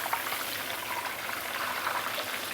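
Flour-coated fish cubes fry in hot oil, a dense, steady sizzle and bubbling hiss that stays even and close throughout with no talking.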